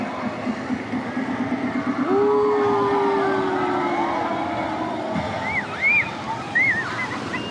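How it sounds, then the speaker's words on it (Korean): Waves surge through a crowded wave pool at Caribbean Bay water park as a steady, loud wash of water, with a long horn-like tone midway and brief whistle chirps near the end. "파도 엄청 세게 온단 말이야"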